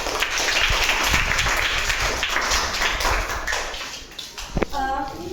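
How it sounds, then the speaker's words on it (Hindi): Children in a class 6 classroom clap loudly together in a sustained burst of applause that thins out near the end, with some voices mixed in. "बहुत अच्छे बच्चे भी जोरदार तालियां।"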